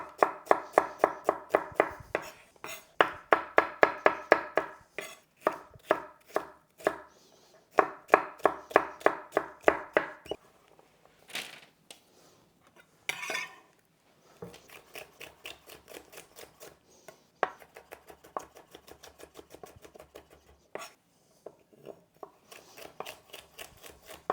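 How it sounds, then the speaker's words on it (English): Vegetables are diced small with a knife on a cutting board in quick, even bursts of close, crisp chops, with short pauses between runs and lighter, scattered cuts later on. "Then we're just going to dice relatively small."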